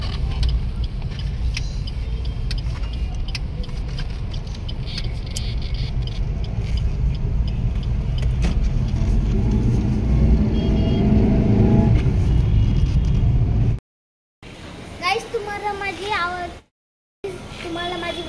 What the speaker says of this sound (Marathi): आणि ट्रॅफिक बघा